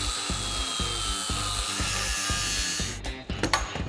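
Metal being cut on the Mazdarati project car during a turbo mounting job: a loud, continuous power-tool grind pulsing in a regular rhythm, which breaks off near the end with a few brief clattering bangs.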